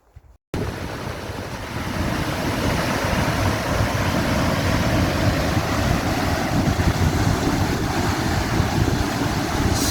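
Snake Indian Falls, a waterfall on the North Boundary Trail with piled timber around it, roars as a loud, steady broadband rush that starts abruptly and holds constant throughout, close by with no talking.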